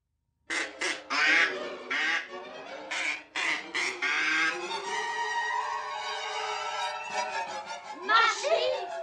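Ducks quack as an audiobook sound effect, in a rapid run of nasal honking calls that blend into a longer stretch of quacking. A voice can be heard alongside the birds.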